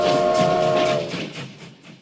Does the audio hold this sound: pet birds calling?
no